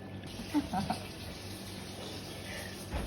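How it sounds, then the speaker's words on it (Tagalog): Water poured into a jelly mixture, a short close splash and trickle at the start followed by a steady low liquid wash, fairly quiet. "Lagyan ulit siya ng 3 tubig ulit."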